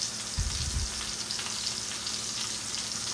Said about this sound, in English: now I'm going to let this sear on that side